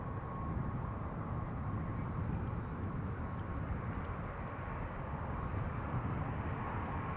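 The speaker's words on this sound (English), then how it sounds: "It's a 787-10 Dreamliner arriving from New York" A KLM Boeing 787-10 Dreamliner arriving at Schiphol from New York JFK, heard as a faint, distant, continuous jet engine hum and wash that stays even for the whole stretch.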